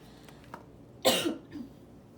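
A single short, sharp cough, close and fairly quiet, with a small throaty follow-up right after.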